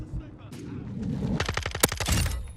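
Rapid gunfire rattles in a quick burst during Call of Duty: Modern Warfare 2 multiplayer, close and sharp after a moment of a player talking.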